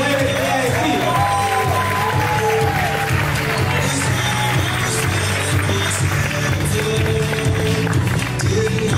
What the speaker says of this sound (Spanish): quiero que por favor me ayuden a recibir con un fuerte, pero fuerte aplauso al gran José Huamán